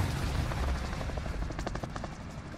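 In the Warzone video game, a helicopter rotor thumps loudly and steadily for the whole stretch, close and dominant, with no talk over it.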